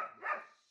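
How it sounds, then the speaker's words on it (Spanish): A single short bark from a dog indoors, sounding close and fairly loud, then fading quickly into quiet. "Ay, que te está ladrando."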